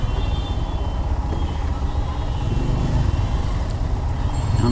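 A traffic jam on a waterlogged road in Uttara, a dense, constant rumble of idling cars and trucks close by with no talk.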